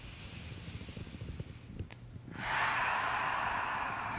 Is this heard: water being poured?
no